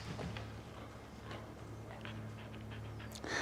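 A dog pants rhythmically and steadily during a frisbee training session, breathing close and fairly loud, with a steady low hum in the background and a brief higher sound near the end.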